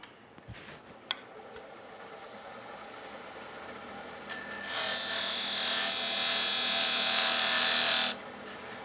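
Lathe gouge cutting a ledge into a spinning wooden box, a few faint taps at first, then a steady rising hum that swells into a loud bright hissing cut lasting several seconds before easing off.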